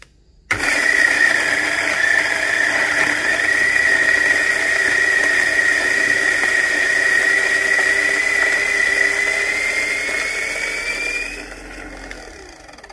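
An electric grinder whirs steadily through Panama Geisha coffee beans, starting abruptly and holding a loud, even, high whine for about eleven seconds before winding down.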